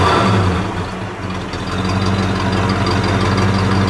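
A 1970 Buick Skylark engine with a single exhaust idles right after the choke comes off, giving a loud, close, steady rumble with a slightly uneven, lumpy pulse and no talking.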